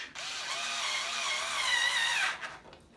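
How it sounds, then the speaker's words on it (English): A small Bosch cordless hand screwdriver runs steadily for a couple of seconds while driving screws on a Ducati Supersport's pannier bracket. Its close, continuous motor whine climbs slightly in pitch before cutting off abruptly. "hand screwdriver makes it an awful lot easier"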